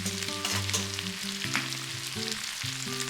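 Udon noodles fry in a pan with a continuous bright sizzle and spatter, moderately close, over steady background music.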